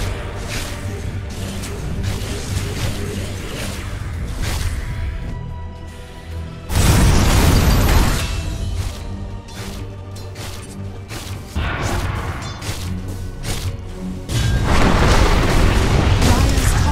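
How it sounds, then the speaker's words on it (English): Heavy booms and crashing impacts from a Dota 2 battle as Radiant's bottom tower comes under attack, with dense overlapping blasts swelling in waves and loudest bursts near the middle and end. "Radiant's bottom tower is under attack."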